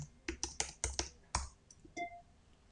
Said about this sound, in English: So I'm going to type the word grateful again.